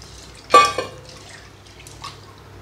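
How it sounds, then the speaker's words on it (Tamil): Chana dal and toor dal are rinsed in water, giving a short splash and slosh followed by a smaller splash and a faint drip, fairly close in an otherwise quiet kitchen. "இதை நல்லா கழுவி வைக்கலாம்."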